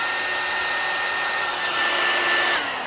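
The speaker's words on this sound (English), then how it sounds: "if I take my hair dryer and blow it across, I give it lift" A handheld hair dryer blows steadily across a small piece of paper during a science demonstration, a loud continuous airy whoosh with a faint steady whine running throughout.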